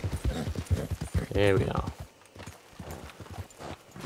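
A horse's hooves clip-clop at a walking pace along a dirt road in the Western game Red Dead Redemption 2, steady rhythmic steps heard under someone talking throughout.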